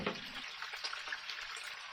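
Anchovies fry with garlic in a clay casserole, giving off a soft, steady sizzle with faint crackles. The sound is quiet and continuous throughout.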